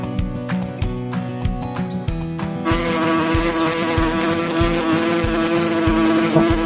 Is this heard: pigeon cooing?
no